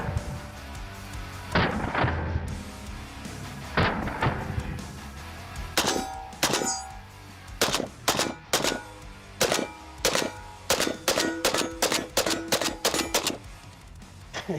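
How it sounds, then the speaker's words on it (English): Bump-fired rifle outdoors: a few spaced single shots give way to rapid, uneven bursts of loud, sharp cracks with metallic ringing, close and dominating, no talking. "I haven't tried bump fire in fucking years."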